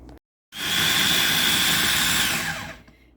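A kitchen grinder spins up and chops plantain leaves: a loud, even motor whir starts abruptly after a short silence, holds for about two seconds, then winds down.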